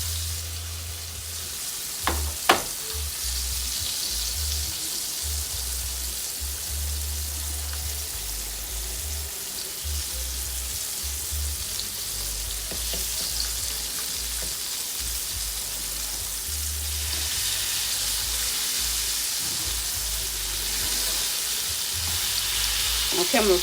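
Liver frying in a pan for liver and onions, a constant close hiss and spatter with occasional sharper pops and a low intermittent hum beneath.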